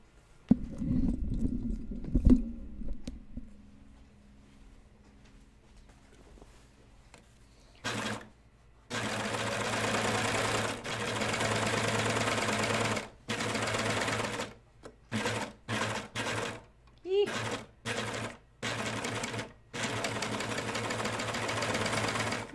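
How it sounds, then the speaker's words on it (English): A serger overlocks seams on a pair of jeans, running in a long steady buzzing stretch and then a series of short stop-start bursts, close and loud, after some quiet handling noises. "So I'm going to serge this."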